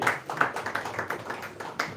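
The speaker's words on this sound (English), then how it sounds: "Please, a round of applause for yourself." Scattered clapping from an audience at a youth stakeholders meeting, a loose patter of hands from a modest crowd, fairly close and without talk.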